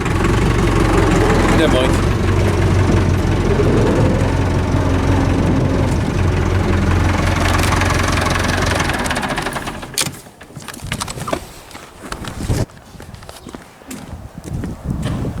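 A farm tractor idles in a steady, close chugging drone for most of the stretch, then fades back behind rustling and clatter as someone speaks briefly.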